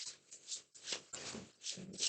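Tarot cards are shuffled lightly by hand, with soft, close riffles and papery swishes coming in several short bursts and no talking.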